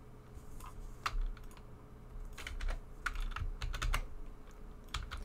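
Keys on a computer keyboard tapped in scattered bursts, nudging items into place in the Barotrauma submarine editor; clicks are close and crisp over a low steady hum, with no talking.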